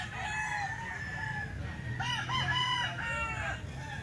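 Roosters crow at a Sunday grotto market. Several long crows come one after another, some overlapping, at moderate distance over a low murmur of background noise and faint voices.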